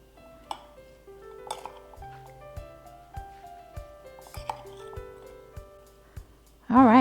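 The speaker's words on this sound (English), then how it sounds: "Now let's gently mix that together so that the crumbs are all coated." Cake crumbs with cinnamon and a pinch of salt being mixed in a bowl: a close run of light clinks and scrapes from a utensil against the bowl, irregular and gentle, with a brief tonal hum at the end.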